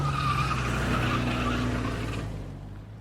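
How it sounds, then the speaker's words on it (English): Tires screech loudly as a vehicle speeds off, a sustained skidding squeal with a droning tone that fades gradually over about three seconds. "Then the sound of tires screeching as a vehicle sped off."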